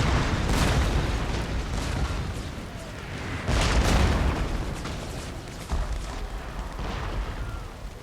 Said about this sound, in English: Incoming! That one landed right on their heads.